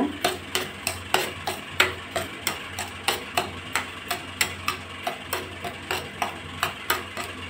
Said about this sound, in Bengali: এটাকে এইভাবে নাড়াচাড়া করব।